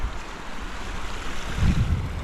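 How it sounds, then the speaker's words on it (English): Water pours into the Carson River beside a jeep trail, a steady close rush of broadband noise with wind buffeting the microphone and a low swell near the end; no one speaks. "Water falls into the river."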